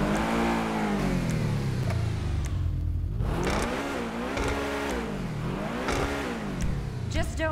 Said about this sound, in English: This is the kind of engine I like to work on.